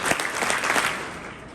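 Brief burst of applause from a high school audience after a candidate's speech, dense clapping that fades toward the end.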